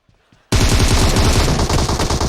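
Rapid automatic gunfire from a video game bursts in loud and dense after about half a second of near silence, a continuous rattling volley that fills the rest of the moment with no talk.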